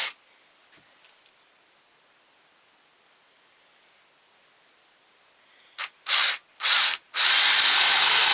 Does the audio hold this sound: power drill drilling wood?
yes